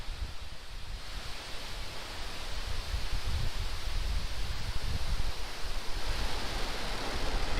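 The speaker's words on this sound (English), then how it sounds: "Ignition. Liftoff. Go Falcon" SpaceX Falcon rocket engines at liftoff on a GPS satellite launch, a broad, steady roaring rumble heard from a distance that swells slightly louder over several seconds, with no voices.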